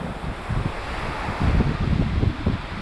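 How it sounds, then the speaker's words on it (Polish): Steady roar of Baltic Sea surf at Świnoujście, with waves breaking and washing in, mixed with wind buffeting the microphone; no voices. "Ale fala jest chyba duża. Nawet słychać, że tą falę."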